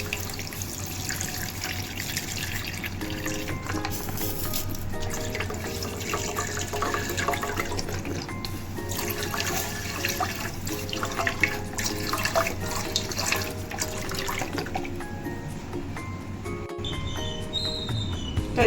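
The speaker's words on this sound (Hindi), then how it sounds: "अब डालेंगे दूध, क्योंकि अचानक दूध डालते कि फूट जाता।" Milk poured into a pot with half a glass of water already in it while kheer is being made, a steady continuous liquid stream running close by for the whole stretch, no talk over it.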